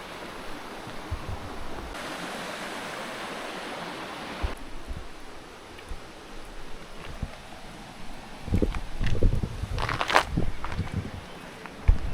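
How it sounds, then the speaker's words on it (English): A river flowing beside an old watermill beneath overhanging rock near Lake Garda: a steady broadband wash of moving water that swells briefly early on, then continues with occasional nearby scuffs and knocks toward the end. "The nice sounds of the river"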